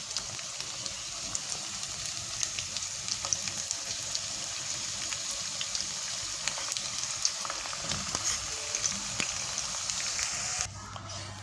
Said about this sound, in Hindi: अब इसमें ये प्याज डाल देंगे स्लाइस की भी और इनको फ्राई करेंगे